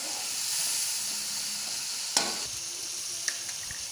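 Peas and tomatoes fry in a pan with a steady, dense sizzle, broken by a sharp clink near the middle and a smaller one toward the end.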